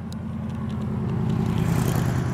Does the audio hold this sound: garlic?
no